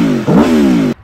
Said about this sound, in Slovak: No a toto teraz je hole bose základná verzia Tuono V4